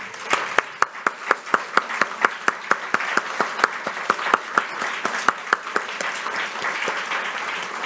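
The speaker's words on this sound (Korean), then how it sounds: "따뜻한 격려의 박수를 보내드리고 싶습니다" A church congregation at a New Year's Day Sunday service claps steadily, a dense, even round of applause with sharp individual claps standing out, sustained for several seconds without speech.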